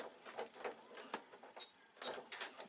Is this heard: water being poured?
no